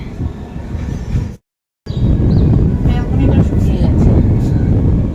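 Wind blowing outdoors during a rainy-day outing, a loud continuous rumbling gust on the microphone, broken by a short silent gap before resuming strongly.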